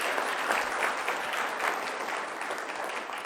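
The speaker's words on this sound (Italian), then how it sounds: "un applauso intanto per appunto la telefonata" A studio audience on an Italian sports television program applauds steadily, a moderate, even clapping throughout with no break.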